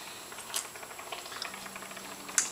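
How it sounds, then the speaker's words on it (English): French onion soup simmers in a pot over reduced heat, giving off soft, sparse bubbling and small liquid pops, fairly quiet, with a slightly sharper pop near the end. "Reduce the heat. And we'll just simmer it."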